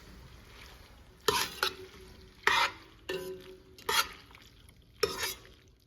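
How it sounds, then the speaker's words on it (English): Noodles stirred through melted butter in a pot for baked mac and cheese, heard as five or six distinct scraping, clattering bursts of utensil against metal spaced about a second apart over a faint background hum. "add the noodles, and then stir them up real good to coat them evenly"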